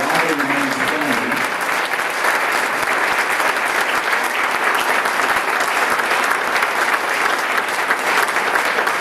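Sustained, loud applause from a chamber of commerce audience honoring past chairmen, thick, even clapping that fills nine seconds, with a brief trace of voice at the very start.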